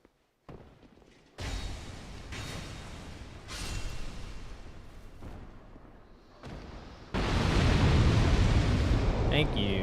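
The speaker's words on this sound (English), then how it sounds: "Thank you, DS2 Explosions." Heavy booming explosions from Dark Souls 2 gameplay arrive in several separate bursts, each a loud broadband roar that cuts off abruptly, the last one long and sustained, with speech faintly underneath.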